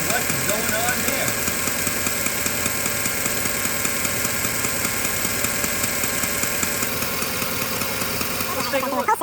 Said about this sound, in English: The good news is I feel like that was probably my exhaust leak.